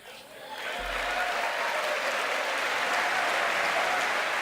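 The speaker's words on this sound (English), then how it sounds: "roaring applause from both sides of the aisle" Roaring, sustained applause fills the chamber of Congress, dense and loud from both sides, swelling within the first half second and holding steady without a break.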